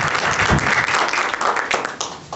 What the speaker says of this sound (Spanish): podríamos dar un aplauso